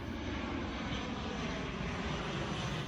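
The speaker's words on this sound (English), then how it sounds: "a plane crossing the sky" A propeller-driven airplane crosses the sky as a steady, continuous engine drone, fairly loud and even throughout, with no voices.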